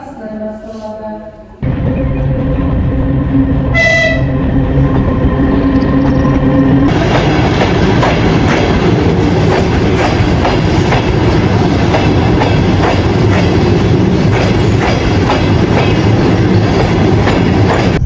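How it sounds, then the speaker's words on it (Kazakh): Passenger train No. 11 on the Almaty–Shymkent route pulls in at a station track, a loud, close rumble with rhythmic clickety-clack of wheels over rail joints, preceded by a brief tonal signal at the start. "Алматы Шымкент бағытындағы нөмірі 11 пойыз 2 жолға келіп тоқтайды."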